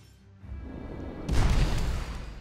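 A magic explosion rock from the video game Magicka: a low rumble builds, then a sudden loud crashing burst that stays harsh and full to the end.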